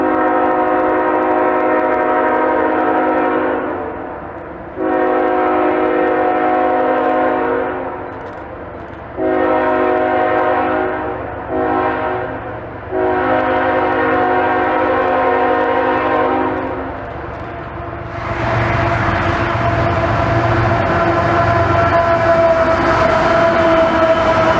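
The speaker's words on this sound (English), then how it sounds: "CSX train Q427 would trip the Wilbraham detector, and it would be seen rounding the bend shortly thereafter." A CSX Q427 manifest freight train on the Boston Line in West Springfield, Massachusetts, in winter sounds a loud multi-tone horn in several long and short blasts, then its engine and rolling cars roar steadily as it passes close.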